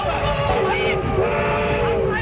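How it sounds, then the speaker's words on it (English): A cartoon train runs along in an early animated short from 1929, its whistle-like tones sliding and holding over a steady mechanical clatter throughout, loud and close. "Stop that train!"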